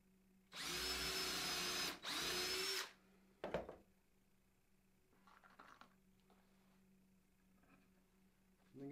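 A power drill whirs in two loud bursts of a couple of seconds each while pre-drilling wood for a bluebird nesting box, followed by a short clack and some faint handling noise.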